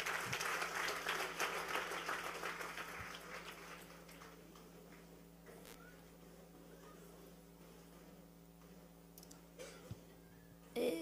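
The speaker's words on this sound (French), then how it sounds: "Acclamez la parole de Dieu pour toi." A church congregation applauds together at a sermon, a broad wash of clapping that is loud at first and then thins and fades to a quieter hum of the room.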